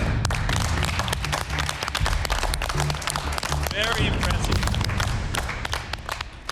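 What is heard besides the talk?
applause for master noodle maker Mr Shu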